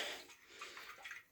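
A partly filled water bottle is given a quick shake, and the water inside makes a brief, faint slosh and rattle with no talking over it.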